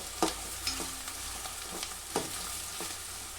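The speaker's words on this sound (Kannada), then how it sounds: "ಈಗ ಈರುಳ್ಳಿ ಎಲ್ಲನೂ ಚೆನ್ನಾಗಿ ಫ್ರೈ ಮಾಡ್ಕೋಬೇಕು." Onions and capsicum frying in oil with green chillies, a steady broadband sizzle punctuated by several scraping stir strokes at irregular intervals, close and moderately loud with no voices.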